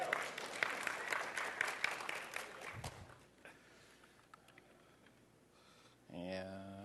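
Audience applause in a WWDC 2002 developer conference session on command line development tools: a room-wide burst of clapping fades out over about three seconds, followed by quiet and then a voice near the end.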